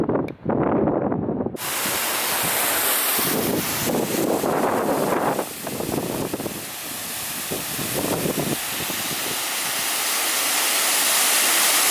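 A steady roar of rushing water from a waterfall near St. John, Canada, on a rainy day, with gusty wind buffeting the microphone throughout.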